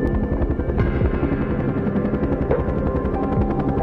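Bell helicopters hover near a mountain plane-crash site, and a loud, continuous rotor chop beats rhythmically and close by with no voices.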